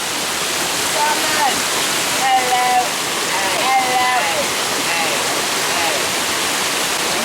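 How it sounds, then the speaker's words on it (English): A small waterfall at a spring in New Hampshire pours with a steady, close, full rushing hiss, while people talk faintly over it. "It's a nice waterfall area."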